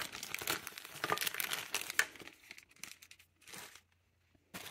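Crinkly foil and plastic baggies being handled and rustled up close, a dense run of crumpling and tearing noises for a few seconds that thin out to scattered rustles and pauses, then a final burst.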